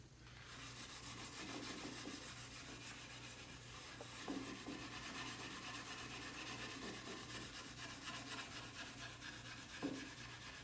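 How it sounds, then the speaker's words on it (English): Steel wool rubs across walnut veneer furniture during restoration, giving a steady close scratching hiss with rhythmic back-and-forth strokes and a couple of sharper scuffs, no voices. "Again, you grab your steel wool."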